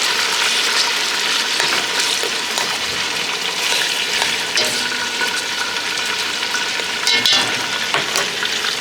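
Oxtail pieces brown in a hot pan over a high flame, a busy, crackling sizzle that runs steadily throughout, with small spits and pops scattered across it.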